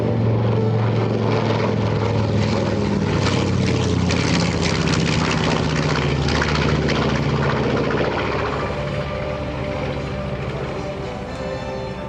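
A B-25 Mitchell bomber's twin 14-cylinder two-row air-cooled radial engines roar in a loud, sustained flyby at an air show, the heavy propeller drone slowly easing as it passes.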